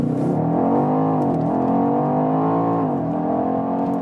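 BMW X5M SUV with a 625 hp engine accelerating hard, a loud sustained engine roar with rising and shifting pitch, heard from inside the cabin with no talk.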